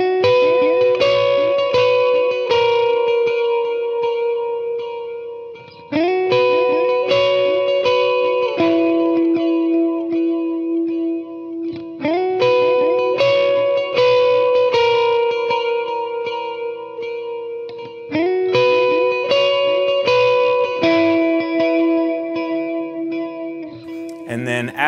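An electric guitar with a delay effect plays a worship song, repeating chord and note patterns whose echoes trail each phrase, loud and clean and steady for the whole stretch with no voices.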